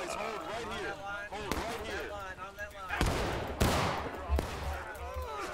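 Musket gunfire in the War of Rights game, scattered sharp reports and a couple of louder close shots cracking out under continuous excited chatter from several players.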